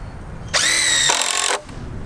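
A new power drill runs on pallet wood in a steady whine of about one second, with a brief dip in pitch midway, loud and close, then cuts off.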